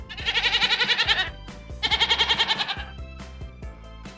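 Two bursts of rapid, trembling kid goat bleats, each lasting about a second, loud and close, followed by quieter knocking sounds.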